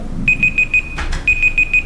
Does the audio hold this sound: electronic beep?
yes